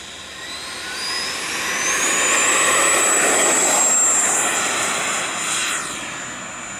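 An F/A-18 fighter jet in the flight game Warbirds roars past, its engine whine swelling loud and steady at the midpoint with a rising high-pitched tone, then easing off slightly toward the end.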